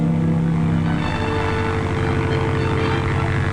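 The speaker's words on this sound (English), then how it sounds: "A small aircraft could use landing areas impossible for use by larger aircraft." A small Piper Cub propeller airplane in flight, a loud steady engine drone with a throbbing propeller beat that holds close and continuous throughout, without any talk.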